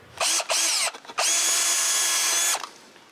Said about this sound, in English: we need to drill some holes into the support